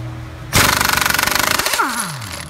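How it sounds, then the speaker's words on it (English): An air impact gun fitted with a 19mm socket hammers loose a Honda crankshaft pulley bolt: a sudden loud, rapid rattling burst of blows for about a second, then a falling whine as the gun spins down. "now we're using the same gun, same air compressor, same air hose, same everything"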